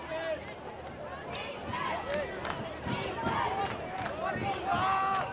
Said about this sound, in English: Sellout crowd at Koskinen Stadium.